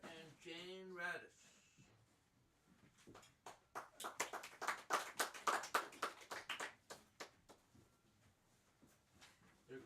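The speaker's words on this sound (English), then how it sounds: "They're clapping, Jane." Modest audience clapping after a poetry reading, a quick burst of scattered hand claps that builds and then thins out, following a short stretch of speech at the start.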